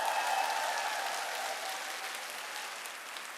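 A large seminar audience claps hard and continuously, a broad dense roar of hands that starts loud and eases off slightly toward the end, with no talk over it.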